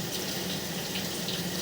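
Water running steadily from a tap into a stationary tub in a basement, a continuous even splashing rush with no pauses.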